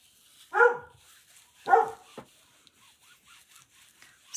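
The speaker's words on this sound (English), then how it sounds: "I don't know how my family can't hear my dog barking" A dog barks indoors, two loud distinct barks about a second apart with faint scraping and rubbing in the background.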